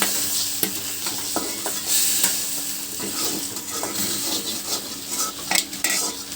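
An egg fries in a pan in a mess kitchen with a steady close sizzle, broken by scraping and clinks of a utensil stirring against the pan.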